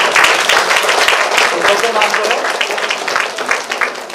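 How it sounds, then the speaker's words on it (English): Students clap for a classmate in a college classroom, a loud, close, uneven patter of many hands lasting a few seconds, with voices mixed in. "Clap for him."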